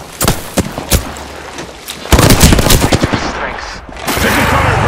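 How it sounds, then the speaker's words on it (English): Gunfire in the Apex Legends video game, sharp repeated shots in short bursts then a dense rapid volley, loud and close, with a voice speaking over part of it. "Taking fire, brothers! Firing!"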